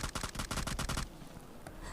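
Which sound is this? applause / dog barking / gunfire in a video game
gunfire in a video game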